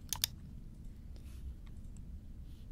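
A computer mouse clicks twice in quick succession, close and crisp, then a few fainter scattered clicks over a quiet room hum.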